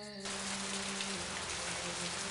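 Light drizzle falling as a soft, even hiss of fine rain that fills the whole clip after a brief tonal sound at the start.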